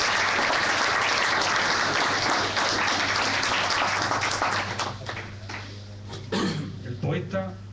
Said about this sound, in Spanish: Yo creo que podríamos aplaudir